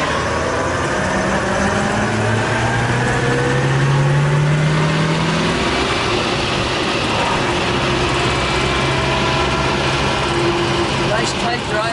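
1962 Chevrolet Corvette, numbers matching, driving on the road with its engine droning and rising in pitch under steady road and wind noise, while someone talks over it.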